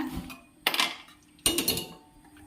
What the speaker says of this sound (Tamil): சின்ன குக்கரை வச்சுக்கிறேன்